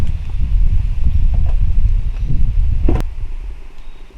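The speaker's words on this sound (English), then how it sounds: "hear that wind? It's just crazy today. And it is a cold wind." Cold, strong wind blows outdoors, a loud buffeting rumble against the microphone with gusts rising and falling, plus a sharp knock near the end.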